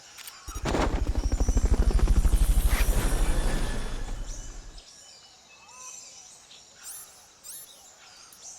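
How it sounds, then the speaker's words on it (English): Helicopter rotors in Metal Gear Solid: Peace Walker thump loudly in a fast, steady beat for a few seconds, then cut off, leaving quiet game ambience with faint chirps. "Fulton recovery subject confirmed onboard helicopter."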